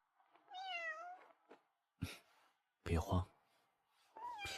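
A cat meows a few times in short, rising cries, with brief thumps and bumps between them.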